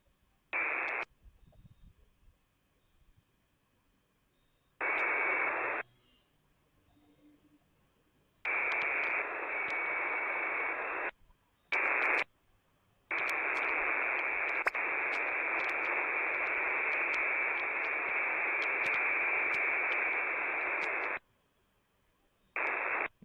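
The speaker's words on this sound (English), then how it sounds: "Get a lot of background noise in HF channels today." HF radio channel static comes in loud blocks of hissing white noise that switch on and off abruptly, several separate bursts followed by one long stretch, with near silence between them.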